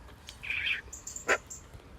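A wild bird calls outdoors in cold, wet weather, giving a short high chirp, a brief sharper note and a few thin whistles, fairly close and clear over a quiet damp background.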